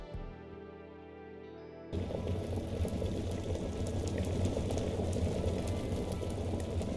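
Minecraft HBM's mod boiler filling with steam: after a brief tonal mechanical hum, a sudden onset of continuous bubbling, hissing boil with scattered clicks, steady and close.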